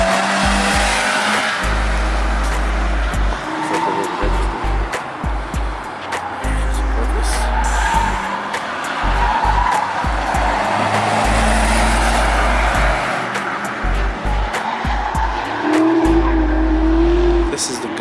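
Race cars roar past on a track in repeated loud engine passes with occasional tire squeal, while people talk nearby throughout.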